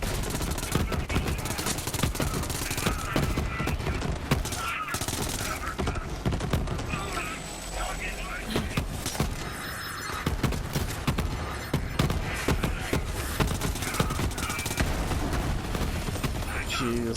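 Rapid bursts of automatic gunfire from the Kaoson gun in the shooter Borderlands 3, running densely through the whole stretch with someone talking over the shots.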